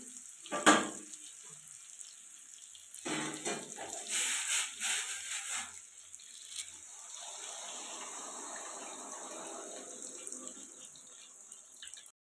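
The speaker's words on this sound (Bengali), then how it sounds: "এর মধ্যে আমি এখন জল দিয়ে দেবো।" Water splashes into a hot pan of egg and taro curry with a loud hiss that quickly settles into a quieter, steady simmering sizzle.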